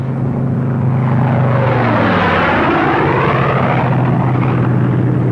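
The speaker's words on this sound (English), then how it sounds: "Republic's P-47 Thunderbolt" Republic P-47 Thunderbolt World War II single-engine fighter drones past with a loud propeller-engine rumble, its pitch sweeping as it passes close by, steady and without speech.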